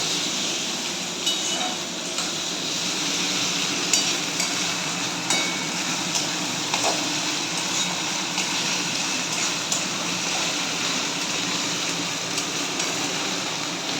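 Ginger and garlic paste fries in hot oil for kadai chicken, giving a steady, dense sizzle that hisses evenly and continuously throughout.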